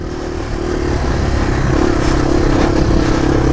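A Yamaha TW200 motorcycle on Kenda K257D tires revs its engine while riding, a loud, close, steady drone that rises in pitch and holds on throughout.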